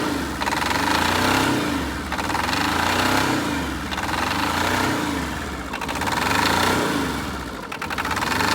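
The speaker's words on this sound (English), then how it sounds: "As you saw, quad bike was running." A quad bike engine with a rebuilt belt clutch runs after a booster-pack start, having stood unused for months. It gives a loud, steady, close mechanical drone with a gently pulsing rhythm and no talking.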